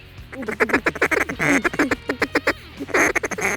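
Ducks quack in a rapid, uneven chatter of repeated calls, close and loud, with bursts clustering and pausing, heard outdoors in a Mississippi Delta duck-hunting setting.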